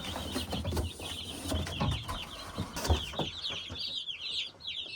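Chickens cluck and peep in a busy flock, with soft shuffling and bumps underneath and high chick chirps growing clearer toward the end.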